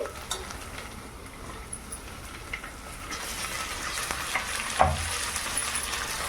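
Chopped gongura leaves fry with ginger garlic paste in a pan, producing a steady close sizzle under light stirring scrapes, growing slightly louder midway, with one sharp metallic clink near the end.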